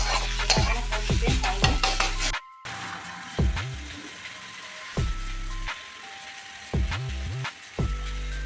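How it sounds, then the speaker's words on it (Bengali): Red amaranth greens fry in a hot pan, stirred in short scraping bursts over a steady sizzle, close and fairly loud, with brief pauses between stirs and no talking. "এদিকে হচ্ছে লাল শাক ভাজা"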